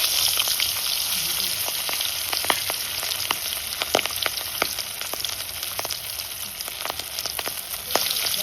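Aar fish frying in oil in a village kitchen, a loud steady sizzle with frequent sharp pops and crackles of spattering oil throughout.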